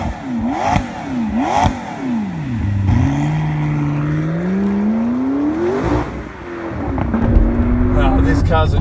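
A 2016 McLaren 650S Spider twin-turbo engine pulls hard under acceleration, its pitch sweeping up through repeated gear changes as the turbos spool, with wind and cabin noise throughout.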